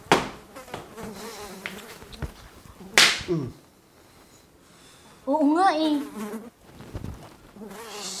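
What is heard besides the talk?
many flies buzzing indoors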